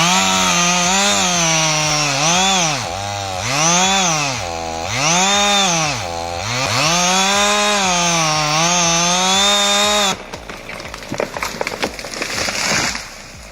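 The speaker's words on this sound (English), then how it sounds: "Just because you own a chainsaw doesn't mean you're a lumberjack." A chainsaw revs repeatedly in loud, rising and falling surges during a tree-cutting job, then bites into the wood with a rougher, choppier roar for the last few seconds.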